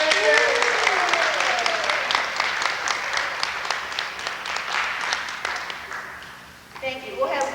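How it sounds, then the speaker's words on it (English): Audience applause at a kindergarten award event on a local news report, a dense steady patter of many hands clapping for most of the stretch, fading near the end as a voice begins talking. "We'll have one big round of applause, everybody."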